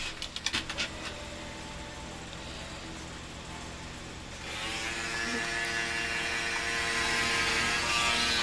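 Electric clippers shaving a dog's belly, starting with a few clicks, then a steady mechanical buzz that grows louder and brighter partway through and keeps droning close up.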